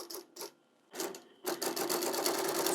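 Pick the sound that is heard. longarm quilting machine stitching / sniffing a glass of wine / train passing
longarm quilting machine stitching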